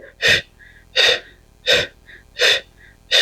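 Four strong, evenly spaced breath sounds during a Pilates exercise, each a forceful exhalation about three-quarters of a second apart, close and loud with short quiet gaps between them.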